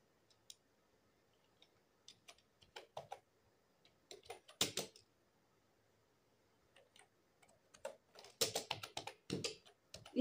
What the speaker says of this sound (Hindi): इस तरीके से भी आप टाइप कर सकते हो।